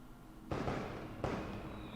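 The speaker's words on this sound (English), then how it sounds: "fireworks" Two sharp, distant fireworks bangs about seven tenths of a second apart, each trailing off in a crackling rumble.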